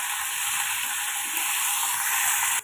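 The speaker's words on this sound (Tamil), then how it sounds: "இப்போ தக்காளி வெங்காயத்துக்கு தேவையான அளவுக்கு உப்பு சேர்த்து வதக்கிக்கோங்க." Tomato and onion sauté with salt in a pan, giving a steady, bright sizzling hiss that stays even and close throughout and stops abruptly at the end.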